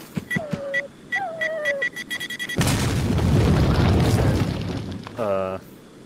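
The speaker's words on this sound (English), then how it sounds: "there goes my nade" A grenade goes off in the VR game Resident Evil 4: a loud, broad blast with a rumbling tail lasting a couple of seconds, after short game sound effects and tones, followed by a brief buzzing tone.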